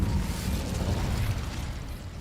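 The Incendio fire spell from Hogwarts Legacy bursts out as a steady, roaring whoosh of flame with a low rumble, loud and sustained, fading slightly at the end.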